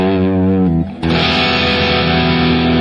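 Heavily distorted electric guitar rings out sustained chords, breaks briefly, then slams into a thick, loud, fuzzy chord that holds to the end, with no voice over it.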